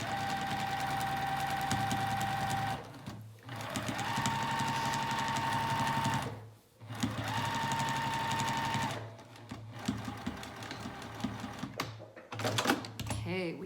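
A sewing machine runs in steady bursts stitching a pajama pant seam, each run a close whirring hum broken by short pauses, with a faint voice now and then.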